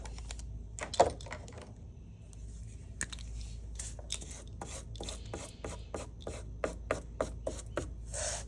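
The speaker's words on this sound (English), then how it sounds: "my job is to color the entire foil with markers" Markers scraping and scratching across aluminum foil, a quick run of dry rubbing strokes that speed up into a steady rhythmic scratching, close and moderately loud with no talking.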